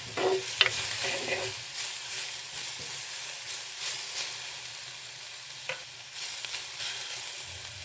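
Maldive fish being stirred into a Sri Lankan eggplant curry in a hot pan, a steady sizzle with scraping spoon strokes and a few light clinks, close up and without voices.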